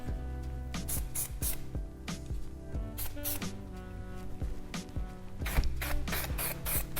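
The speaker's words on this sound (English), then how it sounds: "One more time, texture spray. I'm gonna spray it all one more time." Texture spray hissing onto hair in several short repeated bursts, close and fairly loud, with brief pauses between sprays while styling curled medium-length hair.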